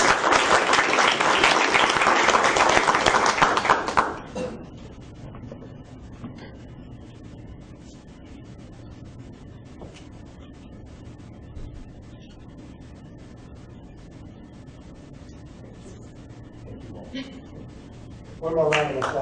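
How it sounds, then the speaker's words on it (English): A school board meeting audience applauds a departing board member, a loud burst of many hands clapping for about four seconds that stops abruptly, leaving quiet room noise, then a brief renewed clap at the very end. "How about a round of applause for Judy?"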